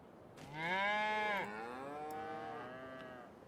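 Cattle on a pasture in Farming Simulator 25 let out a long, drawn-out moo followed by a second lower, sustained lowing call, moderately near and clear, with no talk and only faint ambient background.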